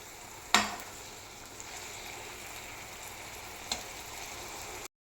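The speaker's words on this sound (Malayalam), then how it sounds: "അപ്പം രണ്ടാമതിട്ട വഴുതനങ്ങയും നല്ലവണ്ണം വഴന്നു വന്നു." Brinjal sautéing in a pan for pickle gives a steady close sizzle throughout, with a couple of brief clinks from a utensil.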